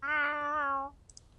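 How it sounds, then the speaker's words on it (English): A single clear, drawn-out cat meow, followed by a couple of faint clicks in a quiet room. "Stop meowing, Womble."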